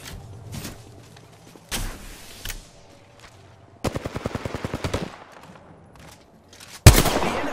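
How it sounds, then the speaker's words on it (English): Gunfire in the Apex Legends video game: scattered single shots, then a rapid automatic burst of about a dozen evenly spaced rounds, and a final loud blast near the end, with quieter game sounds between. "The enemies are shooting at me."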